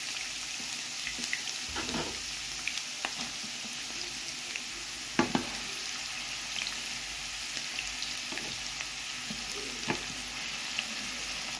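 Garlic and onion frying in a pan for madesu with tripe, a steady close sizzle with occasional stirring scrapes, and no talk over it.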